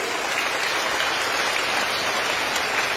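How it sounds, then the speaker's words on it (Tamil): Large audience applauding at a public speech, a steady, dense wash of many hands clapping at once, loud and continuous with no talk over it. "இந்த கைதட்டு பத்தாதுன்னு நினைக்கிறேன் உங்க அம்மாக்கு"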